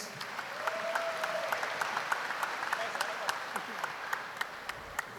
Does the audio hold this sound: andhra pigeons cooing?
no